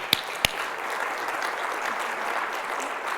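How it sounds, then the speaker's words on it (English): Conference audience applause at a keynote, opening with two sharp close claps, then a steady, even wash of crowd clapping that holds at a constant level. "a big round of applause"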